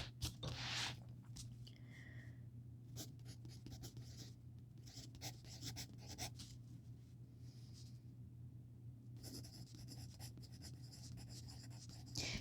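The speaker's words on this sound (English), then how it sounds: "Oh, I forgot to write his name." A pencil scratches out a name by hand on paper during a cartoon drawing session, soft close scribbling strokes coming in short bursts over a steady low hum.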